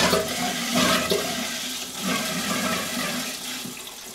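A wall-hung toilet on a concealed installation frame with a pneumatic flush valve flushes nearby, a rushing gurgle of water that swells and continues steadily for several seconds.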